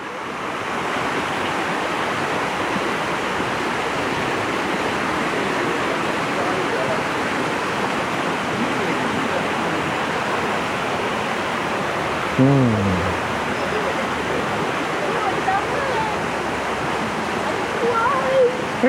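A mountain stream with a sandy bed near a campsite on Fraser Hill, rushing water forming a steady, dense broadband wash that stays close and continuous, with a brief low thump midway.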